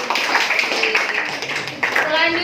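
A junior high social studies class claps for a group of students: continuous, moderately loud clapping from many hands, with voices mixed in underneath the applause.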